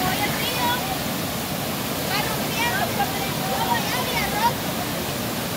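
River rushing after Storm Julia, a loud, steady roar of churning water close by, with a voice talking faintly over it.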